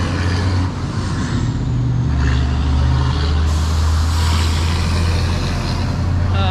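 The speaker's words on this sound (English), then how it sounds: "Dump truck." A dump truck rumbles past on an outdoor street, its heavy engine drone loud and steady throughout, with a short hiss partway through.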